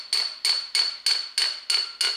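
Seven evenly spaced sharp metallic hammer blows on a camshaft part of a 2006-era Honda Civic 1.8 engine, each strike ringing briefly, close and alone with no talk.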